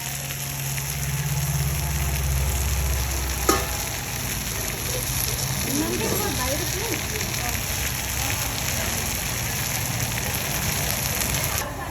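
Taro stems (kochu loti) fry in oil with dried chillies and panch phoron, a constant close sizzle and hiss with one sharp clatter near the start and faint voices in the background.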